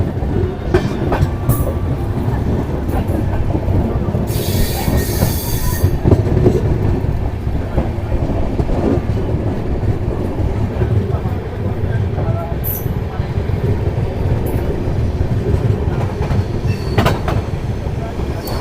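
Sealdah Express train rolling along the rails, a loud, steady rumble with rhythmic clickety-clack from the wheels and a brief metallic hiss or squeal partway through, heard up close as from on board.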